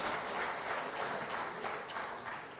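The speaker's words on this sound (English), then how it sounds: "Let's thank them with once again a big round of applause." Audience applause at an awards function for managerial excellence: a sustained, fairly quiet wash of many hands clapping, even and continuous, heard from a slight distance throughout.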